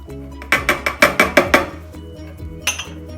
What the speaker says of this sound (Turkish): homojen bir karışım elde edene kadar çırpmaya devam ediyoruz